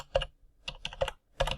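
Keys clatter on a computer keyboard in short irregular bursts of quick clicks, close and clear with brief pauses between groups.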